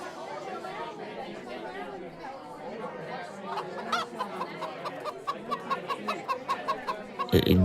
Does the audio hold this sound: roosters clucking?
yes